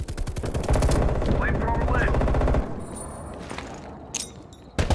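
Enemy sentry turrets in the Call of Duty video game fire a loud, rapid automatic burst for a couple of seconds, then fade to scattered distant shots and clicks.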